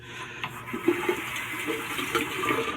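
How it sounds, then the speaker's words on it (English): Tap water runs steadily while a shaving brush is wetted at a sink, a soft continuous splashing stream with a few slightly louder bursts, heard alone without talk. "Wetting my brush now just to clean out a little of the water."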